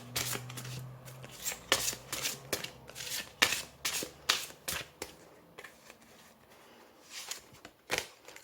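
Oracle cards for an astrology reading are shuffled in a steady run of crisp riffling bursts, close and fairly soft, repeating for several seconds with short pauses and no talk.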